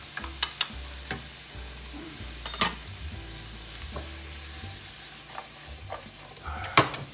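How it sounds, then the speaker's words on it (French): Sliced mushrooms and ham fry in a pan for a pasta dish, with a steady low sizzle broken by repeated clicking and scraping from a utensil stirring them. The sounds are close and moderately loud, with no speech. "Ça permet à nos champignons de continuer la cuisson. Et pourquoi pas notre jambon."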